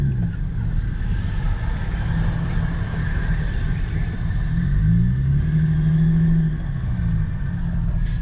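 An old Lexus GS300 with a broken muffler drives along, its steady low engine and road rumble joined by a rising squeal from the running gear that swells midway through.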